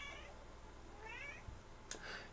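A cat gives three faint, short meows, evenly spaced and heard alone in a quiet room.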